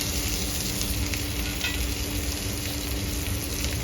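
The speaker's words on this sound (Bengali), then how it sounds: "লং আর এলাচ দিয়ে দিচ্ছি, ভেজে নিই।" Onion sizzles steadily in hot oil with bay leaf, cinnamon, cloves and cardamom, a loud, close, continuous frying hiss with no voices over it.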